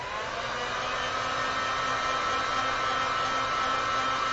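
A heat tool blows hot air over alcohol ink, a steady, even whirring roar of a fan with no breaks, fairly close and continuous throughout, with no voices over it.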